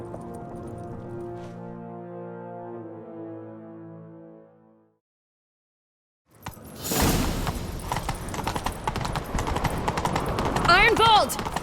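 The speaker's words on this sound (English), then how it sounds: "Grab a horse, we'll chase him down." Horse hooves gallop in the Witcher 3 video game, a busy rhythmic clatter that begins loudly after a musical passage and a short silence, with shouted voices over the hoofbeats.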